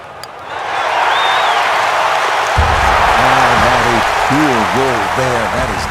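A golf gallery in the EA Sports PGA Tour video game at TPC Scottsdale breaks into sustained applause and cheering, a broad wash of clapping that swells and holds, while a commentator talks over it.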